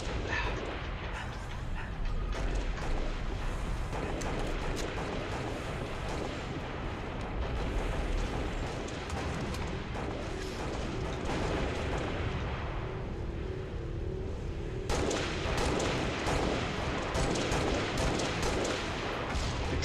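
Gunfire and explosions from Halo: Reach multiplayer thud and crackle continuously through the match, dense and moderately loud with a sharp burst near the end, and little talk over it.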